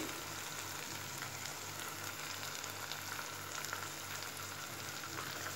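Dal with fenugreek leaves (methi) sizzling and frying in oil in a pan, a steady, dense crackle that continues evenly throughout at close range with no talking.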